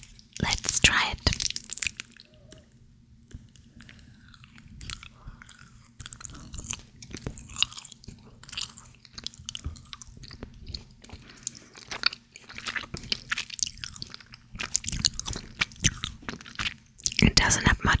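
Close, soft chewing of a fudgy nougat British chocolate bar, with sticky wet mouth sounds and light crunches repeating irregularly, interspersed with quiet whispered talk.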